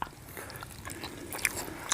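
Someone bites into crunchy raw chili and fresh herbs, eaten with a fish dish, in rural Thai home cooking, producing close, crisp crunches that sharpen near the end, with no talking.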